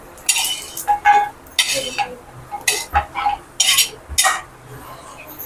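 A metal spatula scrapes and clinks against a pan as golden-brown roasted coconut is moved into a dry plate, with irregular bursts of sharp scraping and clattering.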